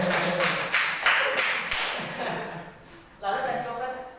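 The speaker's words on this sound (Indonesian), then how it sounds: "Ya tepuk tangan ya" Classroom applause during a teaching practice lesson, a few seconds of rhythmic clapping from students, fairly close, fading out as a teacher starts talking.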